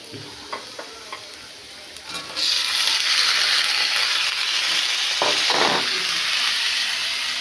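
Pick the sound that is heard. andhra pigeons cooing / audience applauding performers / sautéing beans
sautéing beans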